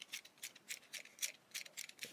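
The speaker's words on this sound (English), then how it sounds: "this is how carpenters sharpen pencils." Quick, repeated scraping shaves of a blade across a wooden carpenter's pencil as it is sharpened, a rapid rhythmic series of short rasping strokes close by.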